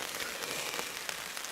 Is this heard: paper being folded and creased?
no